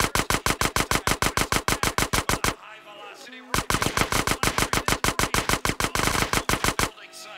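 SMG fire in GTA San Andreas, a loud and steady run of rapid regular shots that pauses for about a second and then carries on in the same rhythm, with a brief game sound in the gap.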